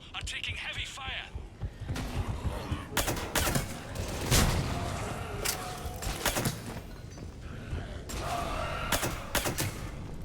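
Heavy gunfire in the sci-fi video game Mass Effect 3, sharp loud shots and bursts cracking irregularly over a dense combat background, with a voice speaking among them.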